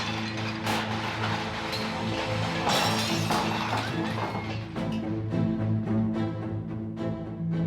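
Furniture and utensils being smashed in a dramatized historical scene, with repeated crashes and shattering glass over a dense, noisy background.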